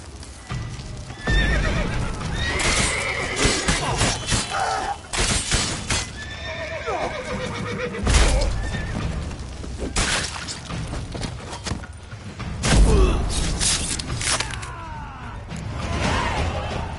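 Horses in The Witcher 3: Blood and Wine neigh and whinny loudly over the drumming clip-clop of galloping hooves, with sharp crashes and bangs breaking in during the chase.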